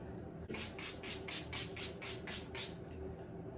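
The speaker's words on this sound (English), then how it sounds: "I want to set this first with setting spray" Around eight rapid spritzes of makeup setting spray from a spray bottle in a steady rhythm, close up over a low, constant background hum.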